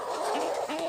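Young three-month-old laying hens give a short, soft cooing call at close range, a brief warbling vocalization with no talking.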